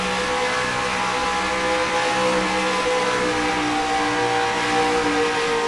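Race cars roar around the track in NASCAR Racing 2003, a dense, continuous wall of engine drone from several cars running close together in single file, loud and unbroken.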